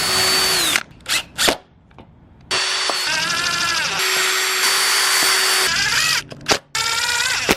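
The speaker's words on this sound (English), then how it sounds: "So I'm screwing the 2 pieces together," A power drill drives screws through two stacked oversized Lexan sheets being joined for car windows: loud, close whirring bursts, a few short ones and then two long sustained runs, with no talk.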